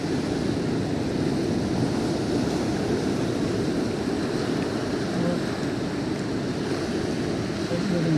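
Ocean surf rolling steadily onto a beach, a dense continuous wash of waves at even loudness with no voices.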